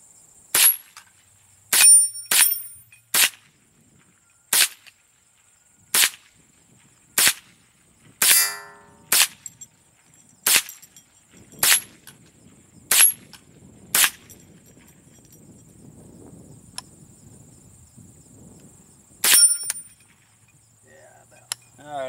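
A Remington Nylon 66 rifle fires about a dozen sharp, loud shots at a steady, unhurried pace, with short quiet gaps between them and faint rustling in the background.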